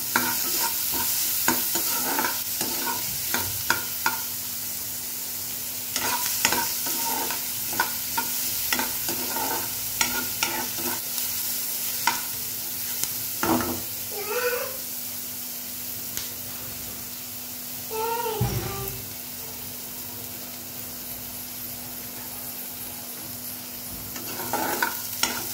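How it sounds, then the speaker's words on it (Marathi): Onions fry until brown in a pan with a steady close sizzle and hiss, with frequent spatula stirs and scrapes clicking against the pan throughout. "कांदा मस्त आता ब्राऊन होऊ देऊ आपण आता।"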